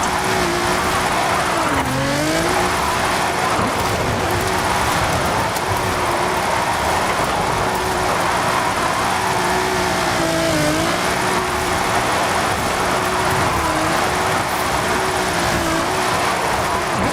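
Nissan GT-R with its twin-turbo VR38DETT engine in Forza Horizon 5, running steadily loud with a droning engine note that rises and dips through several gear changes over continuous road and tire noise.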